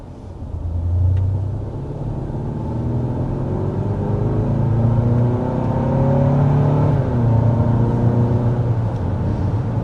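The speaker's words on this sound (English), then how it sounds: "this vehicle is fast enough to hit 60 in that little amount of space" A 2025 Hyundai Santa Fe with a 2.5-liter turbo four-cylinder accelerates hard from inside the cabin, the engine note rising through the gears with a brief dip at each shift over a steady road rumble.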